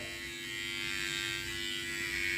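A Powertec TR-2323 digital beard and neckline trimmer with a 1200 mAh battery runs with a steady, close electric buzz that holds an even pitch throughout.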